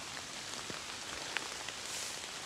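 Rain falls in green woodland in late September, making a soft, steady hiss with a few scattered distinct drops, fairly quiet and with no talking.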